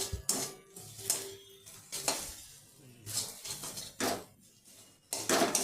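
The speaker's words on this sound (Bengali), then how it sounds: "আমি সামান্য একটু কাশ্মীরি লঙ্কার গুঁড়ো এখানে মিশিয়ে নিচ্ছি" Spoon scraping and stirring through spice paste frying in a pan as Kashmiri chili powder is mixed in for a jackfruit curry, giving repeated bursts of scraping over a steady sizzle, fairly close.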